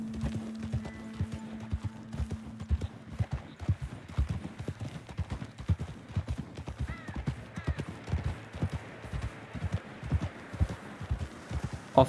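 Steady clip-clop of horse hooves on a hard surface in the video game Red Dead Redemption 2, an even trotting rhythm throughout with a brief low hum early on.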